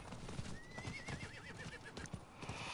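A horse in Diablo 4 lets out a wavering, quavering whinny over a steady clip-clop of hooves, with a continuous game ambience behind them and no talking.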